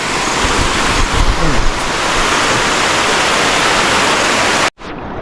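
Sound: natural spring water flowing

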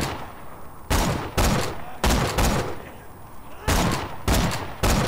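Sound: sniper rifle gunfire in video game Borderlands 2

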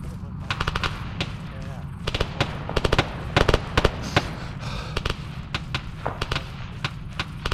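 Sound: gunfire in the video game Arma 3

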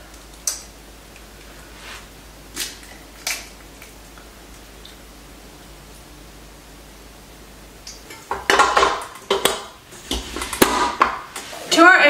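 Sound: separating eggs into whites in bowls

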